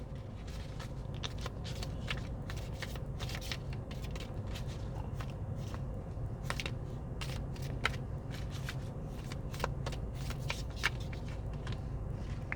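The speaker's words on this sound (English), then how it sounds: "Let's just go and pull some more cards and see what comes out." A deck of tarot cards is shuffled up close, a long run of quick riffling snaps and soft shuffles in an uneven rhythm.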